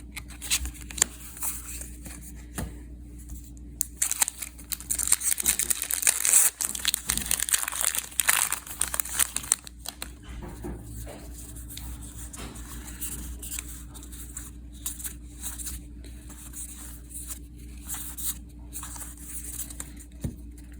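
Foil wrapper of a Magic: The Gathering Ixalan booster pack being torn open, a burst of crinkling and crackling foil in the middle of a quiet stretch, with softer rustles before and after.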